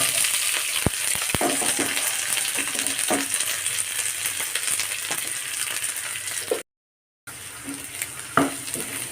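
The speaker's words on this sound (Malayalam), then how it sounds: "ഇനി ഇതിലേക്ക് ഞാൻ സവോള പച്ചമുളക് വേപ്പില എല്ലാം കൂടിയിട്ട് ഒരുമിച്ച് ഇട്ട് കൊടുക്കാം" Sliced onion, green chillies and curry leaves go into hot oil with mustard seeds in a frying pan, giving a steady close sizzle with a few sharp pops and clinks and no talking.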